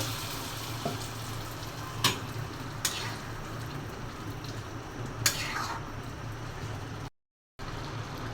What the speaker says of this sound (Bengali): কালো জিরা ভেজে নিচ্ছি।